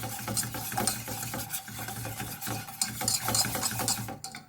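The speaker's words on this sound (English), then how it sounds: "Keep whisking away." A whisk works through cheese sauce in a pan on a gas hob, giving continuous close scraping and swishing strokes against the pan with a steady rhythm, fairly loud, with no speech.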